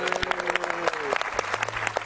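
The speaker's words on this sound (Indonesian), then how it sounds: "nanti akan kita beri tepuk tangan." Studio audience applause on an Indonesian televised debate show about food prices, a short burst of scattered clapping with a sustained tone and some voices mixed in.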